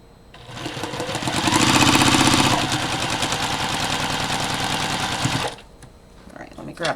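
Quilt pieces are fed through a sewing machine at a quarter-inch seam allowance, which hums in a close, fast, continuous run of about five seconds before stopping, with some voice underneath.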